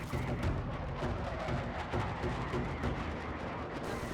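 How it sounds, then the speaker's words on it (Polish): Heavy video game explosions rumble in a dense, continuous barrage, booms overlapping one another with no pause. "Wybuchy, eksplozje, tego nie może zabraknąć w żadnym filmie ani też grze akcji."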